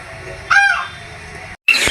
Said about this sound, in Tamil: இதான் அந்த கூஸ் வாத்தோட சவுண்டு.